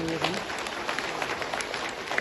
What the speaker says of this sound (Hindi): आप सभी एक बार इस सनातन समिति का तालियों के द्वारा स्वागत करें